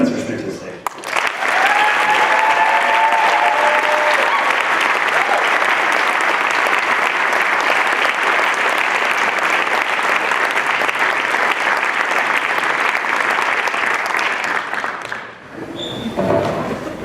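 Audience at a university faculty last-lecture event welcomes a professor to the stage with loud, steady applause that holds for about fourteen seconds and then tapers off.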